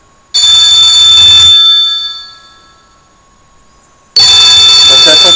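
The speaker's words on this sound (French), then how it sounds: "Volume de la sonnerie." A senior flip phone rings at full volume with a shrill, piercing electronic ringtone, two loud bursts separated by a short fading pause.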